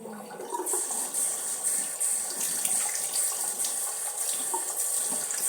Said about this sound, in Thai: ล้างหน้ากันเราก็จะล้างหน้าก่อนอาบน้ำ